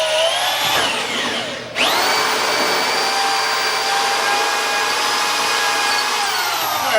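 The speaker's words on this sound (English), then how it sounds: "Luckily we have a hole saw already set up" A hole saw on a power drill cuts through PVC while building a tree, a loud steady whine with a brief dip and restart partway through, then a sustained high cutting drone to the end.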